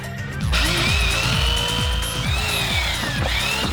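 A belt sander grinds against denim jeans with a loud, continuous motor whine and a rapid rhythmic rasp, close up and alone.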